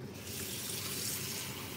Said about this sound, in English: I'm going to add some water to the pot